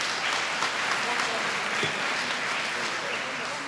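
An audience claps steadily for elementary Teachers of the Year at a school district awards ceremony, a dense, even wash of applause filling the room without pause.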